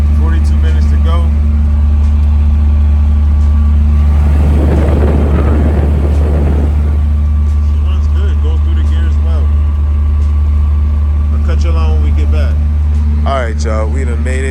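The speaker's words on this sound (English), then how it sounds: "It's idling on its own now." A 1985 Nissan 720 engine idling a little high, a steady low drone running throughout with a burst of louder broadband noise in the middle; someone talks over it at times.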